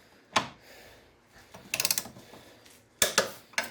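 Audi A4 B6/B7 2.0T FSI engine mount bolts being tightened with a wrench: a quick burst of ratcheting clicks near the middle, bracketed by sharp metallic clacks at the start and end, close and fairly quiet.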